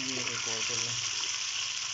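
Chicken drumsticks sizzle and fry in hot oil in a pan, a steady crackling hiss that continues throughout, with a person speaking briefly at the start.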